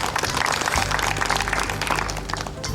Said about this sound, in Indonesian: Kalau boleh kita berikan tepuk tangan yang meriah.